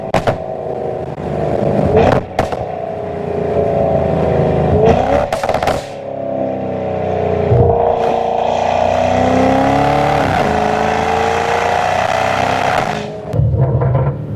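A 2017 Audi RS7's powerful engine, making 800 hp, revs and accelerates hard, its aftermarket exhaust roaring loudly and rising in pitch across several long pulls, with brief gear-change dips between.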